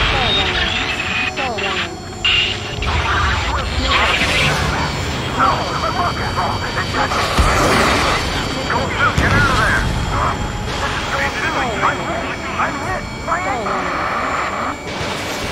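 Fighter jets roar and whoosh in Ace Combat 7 aerial combat, loud engine sweeps passing close under constant radio chatter between pilots.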